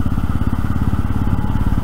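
A motorcycle engine runs close by on a solo road trip near Surat, a steady, loud, throbbing rumble with rapid even pulses and no talk.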